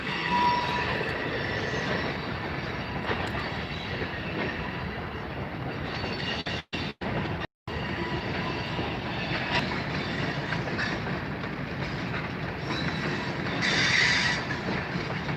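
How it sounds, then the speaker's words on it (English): A train rumbles past continuously in Havre, Montana, with rattling wheels and clatter, loud and close, with a faint squeal near the end. "Watching trains. Plus you can see the whole train."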